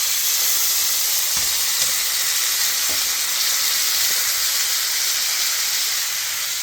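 Top sirloin steaks sear in a stainless steel frying pan with a loud, dense, continuous hiss and sizzle, steady throughout with a few faint knocks, no voices.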